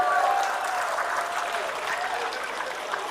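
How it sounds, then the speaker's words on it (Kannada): An audience applauds at a commemoration event marking the 78th birth anniversary of a spiritual leader, producing dense, sustained clapping that stays steady and fairly loud throughout. "ಯಾರಿಗೆ ಸಿಕ್ಕದ ಚಪ್ಪಾಳೆ ಜಗ್ಗೇಶ್ವರ್ ಬಂದ್ರೆ ಸಿಕ್ಕೇ ಸಿಕ್ಕುತ್ತೆ ಅಂತೇಳಿ"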